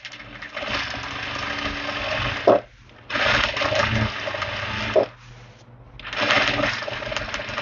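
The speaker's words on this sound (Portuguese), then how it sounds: "E aí, eu venho de novo com a costura" Sewing machine stitching fabric for a Christmas table runner, running in three loud sustained bursts with short pauses between them, no talking.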